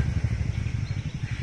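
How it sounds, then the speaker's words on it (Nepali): A scooter squeezing its way past a broken-down Tata truck stuck on a narrow road between Namchi and Jorethang, heard as a steady low engine drone throughout, with no talk. "स्कुटी बाइक चाहिँ जबरजस्ती छिराउँदैछ"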